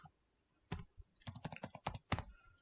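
Fast keystrokes on a computer keyboard, a close, quiet burst of about a dozen clicks in an uneven rhythm after a short pause, with no voices.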